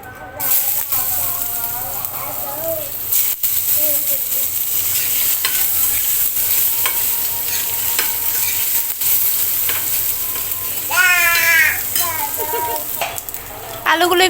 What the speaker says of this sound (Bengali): এখন এর মধ্যে আলুগুলো দিয়ে দেব।